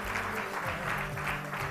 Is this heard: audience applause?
yes